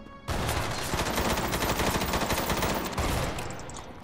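Dense, sustained gunfire from the mech combat game Front Mission Evolved, including a shotgun, fills the clip with loud overlapping blasts for about three seconds before tapering off.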